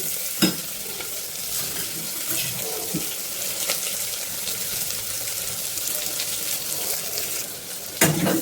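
Onions and dried red chillies sautéing and being stirred in a pan for a brinjal tomato dish, a continuous close sizzle with scraping strokes and a couple of sharper knocks.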